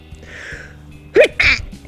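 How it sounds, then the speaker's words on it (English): A single sneeze, close and loud, a sharp burst with a quick second gust, in a quiet outdoor spot at an abandoned caravan park. "I'm going to sneeze."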